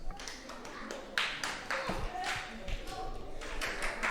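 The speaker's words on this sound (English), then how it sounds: "Clap yourselves" Primary schoolchildren at an Islamic day and boarding school clap for themselves, a ragged burst of hand claps with sharp separate hits, heard under a speaking voice in a reverberant space.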